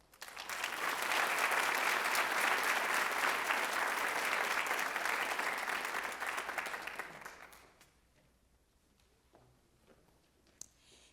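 Audience applause at a senior honors night for a club chapter, a dense sustained clapping from a crowd that fills the room for about seven seconds, then fades out to quiet room tone with a few stray claps.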